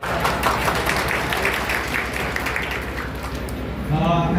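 Hall applause at a ceremony honoring outstanding and retired teachers in the TTC auditorium in Bundu, a sustained wash of clapping with voices speaking over it near the end.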